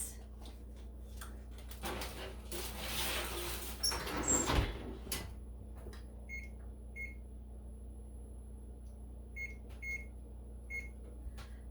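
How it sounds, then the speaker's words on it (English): An oven door opens with a short clatter and scrape as a foil-covered tray is slid inside, followed by quiet room hum and a few faint high electronic beeps. "All right, I'm gonna pop that in the oven for 20 minutes."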